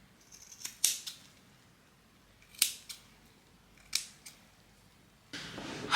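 Sharp scissors snip through hair bundles of a sew-in on type 4 hair, three or four crisp close cuts spaced about a second apart, with a soft rustle at the end.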